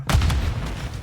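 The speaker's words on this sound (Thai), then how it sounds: "แล้วใครเขาระเบิดรถเราวะ" A loud, booming blast at the start as a car explodes in Call of Duty: Warzone 2.0, followed by rumbling low-end noise and a few fainter crackling bursts.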